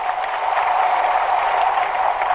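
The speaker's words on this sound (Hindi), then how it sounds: "ताली बजाओ तो मजा आना चाहिए" Crowd at a political rally clapping steadily, a dense continuous wash of applause with no breaks, moderately loud and fairly distant.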